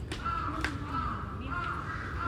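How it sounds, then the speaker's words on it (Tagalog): Crows cawing near an outdoor shrine, several harsh calls spaced through the clip over a constant hum of background noise and distant voices. "Naririnig yung mga uwak. Ang ingay ng mga ibon, di ba?"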